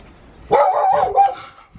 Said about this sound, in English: That's not Lucy, that's next door's dog.